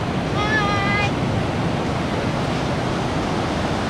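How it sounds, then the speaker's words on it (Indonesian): Large ocean waves crash and wash continuously on Citanggeuleuk beach, a steady broadband roar of surf close by with wind on the microphone; a voice briefly speaks near the start. "yang ombaknya pantai Citanggeluk lumayan besar ya"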